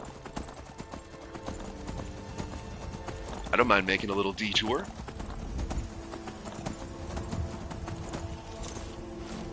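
Rhythmic clip-clop of horse hooves with a brief whinny in the video game Skyrim, while someone talks over them.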